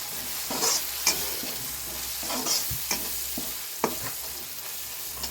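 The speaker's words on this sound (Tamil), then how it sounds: "இப்போ நம்ம வீட்டிலே அரைச்ச சாம்பார் பொடி காரத்துக்கு ஏற்ற மாதிரி சேர்த்துக்கோங்க சேர்த்து கொஞ்சம் கலந்துக்கிட்டுக்கலாம்" Homemade sambar powder stirred into fried onion and tomato in a pan for cumin kuzhambu: a steady close sizzle with repeated scraping spoon strokes, no voices.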